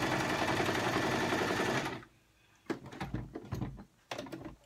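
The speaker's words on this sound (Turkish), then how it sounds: "Dediğim gibi yarımşar santimden dikiyorum." A sewing machine stitches fur hat pieces together, whirring steadily and fairly loud for about two seconds, then stopping; clicks and handling knocks of the fabric and machine follow.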